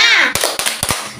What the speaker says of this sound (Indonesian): Kita tepuk semangat bareng-bareng.